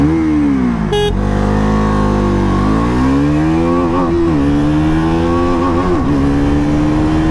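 A KTM Duke 200 motorcycle accelerating hard in first gear, a loud close engine roar whose pitch climbs and dips through revs, preceded by a short horn blast, with no talking.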